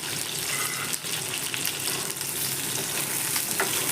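Four medium tomatoes sauté in a pan for a chutney, making a steady, close sizzle with faint stirring underneath, with no talk.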